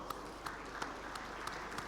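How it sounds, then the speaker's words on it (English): Applause from a standing audience at a fellowship conferment ceremony, faint and distant, with a few sharper claps punctuating a soft, steady patter of hands. "May I now request all our conferees to please be upstanding as we cheer them with a rousing applause"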